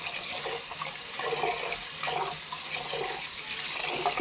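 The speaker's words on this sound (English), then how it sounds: "Washing it with that cold water." Cold tap water runs steadily over rice being washed in a bowl, a continuous close hiss of flowing water with soft splashing and sloshing as the grains are rinsed.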